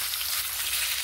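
Prawns coated in salt and turmeric fry in hot mustard oil, producing a steady, close, hissing sizzle that runs unbroken through the short moment with no speech.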